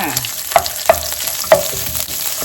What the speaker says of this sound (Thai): ดิฉันจะเอาน้ำมันหมูใส่นิดหน่อยนะคะ ผัดเครื่องแกงให้หอมเลยค่ะ